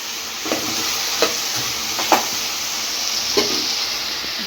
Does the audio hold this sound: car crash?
no